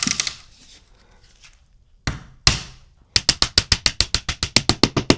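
Pneumatic nail gun fastening tongue and groove ceiling boards overhead, a few separate sharp shots followed by a fast, even run of about a dozen loud snapping impacts close by, with no talk.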